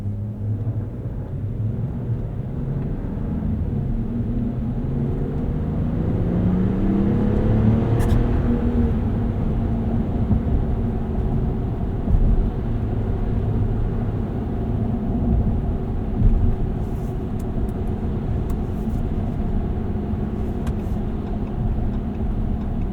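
Cabin of a 2025 Ram Rebel X pickup rolling over bumpy roads, a steady low engine and road rumble with a rising hum as it accelerates and a few soft thumps from bumps, no talk.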